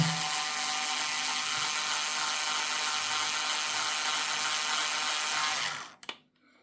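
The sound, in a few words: small motorized bit driving a screw into a 3D-printed kit part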